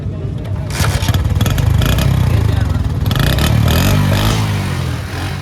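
Nearly new Honda 70 motorcycle engine idling and revving at a bike market, a loud steady thumping putter with rises in pitch, close up with background chatter.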